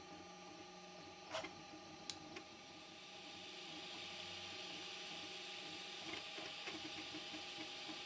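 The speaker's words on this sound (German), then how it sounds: "Die weiteren Lagen werden mit einer Geschwindigkeit von 30 mm pro Sekunde gedruckt." A Prusa MK4 3D printer fitted with a pellet extruder prints further layers at 30 mm/s with a 0.4 mm nozzle and 0.2 mm layer height, giving a steady mechanical hum with faint stepper whines and a few sharp ticks.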